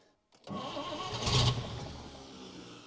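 A 1949 Chevrolet Deluxe in need of a rebuild cranks briefly, then catches and fires up. The engine note swells to a rough, revving peak before settling into a steadier run, close and alone.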